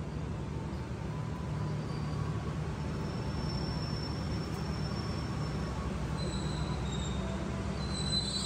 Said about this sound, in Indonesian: Yang tengah berhenti ini kereta api Cikuray dari stasiun Pasar Senen tujuan stasiun Garut.